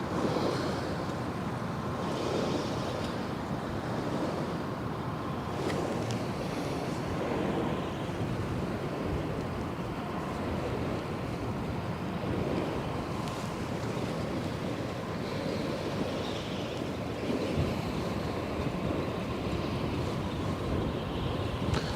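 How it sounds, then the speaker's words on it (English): Wind gusts blow across the Westerschelde waterway, a continuous moderate rush with surges over a low rumble of distant water and passing ships. "Seems like the wind is picking up a little bit again"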